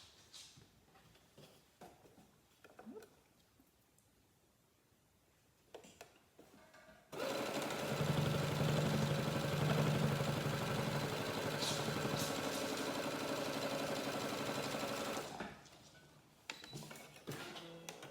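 A sewing machine stitches quilt fabric pieces together in one sustained, loud, close whirring run of about eight seconds, framed by quieter handling and fabric rustling before and after.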